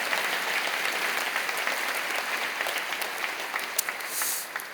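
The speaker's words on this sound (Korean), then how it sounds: "여러분 크게 박수로 환영하시죠" A church congregation applauds in welcome at an Easter worship service, a dense, steady clapping that fills the room for several seconds.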